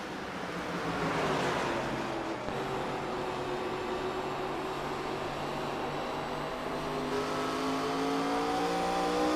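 Race cars in an online racing league event at New Hampshire roar side by side, engines droning with rising and falling pitch as they pass, a steady loud layered whine throughout.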